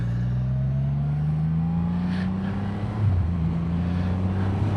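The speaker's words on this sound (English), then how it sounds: "the noise that engine makes, it's just addictive" A motorcycle engine runs steadily and loudly, its drone rising slightly in pitch, with wind rushing across the microphone.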